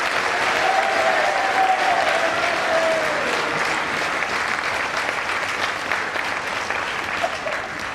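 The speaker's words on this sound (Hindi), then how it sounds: "मैं खुद आप सबके लिए ताली बजाता हूं" A crowd applauds steadily throughout, a dense wash of clapping at moderate volume with a faint voice briefly audible early on.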